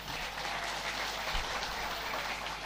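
Audience applause at an Islamic sermon by KH Anwar Zahid, a steady, fairly faint patter of many hands clapping evenly throughout, with no voices over it.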